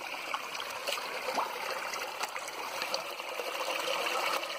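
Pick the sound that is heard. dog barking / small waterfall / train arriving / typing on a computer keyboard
small waterfall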